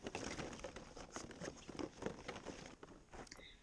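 A dog snuffles and noses through a plastic ball pit sprinkled with treats, giving a close, steady patter of rustling, shifting balls and soft sniffing throughout, with no talk.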